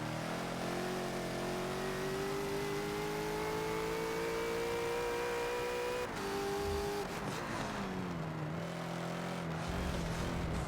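A Bentley GT3 race car in Forza at Laguna Seca, its engine droning loud and close with the rear tires spinning up, pitch rising steadily before dropping and surging again as the throttle comes back on.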